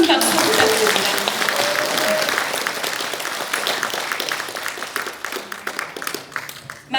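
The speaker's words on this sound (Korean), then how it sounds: "귀한 말씀 해주신 이병태 교수님께 다시 한번 큰 박수 부탁드립니다." Audience applause at a launch ceremony in the National Assembly members' office building, a sustained wash of clapping from a crowd that stays loud and gradually thins toward the end.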